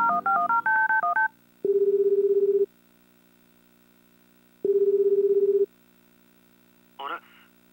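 Phone dialing tones in the dating sim Tokimeki Memorial Girl's Side 2nd Kiss: a fast run of DTMF keypad beeps, then two long ringback tones separated by silence, and a brief click as the call connects.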